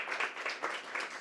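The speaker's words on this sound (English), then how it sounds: "Let's give one applause to Koen Beijers for his talk." Short burst of audience applause at a forum on human-robot collaboration, following a talk: a soft, fairly distant patter of clapping hands that swells slightly and stays even across the brief moment.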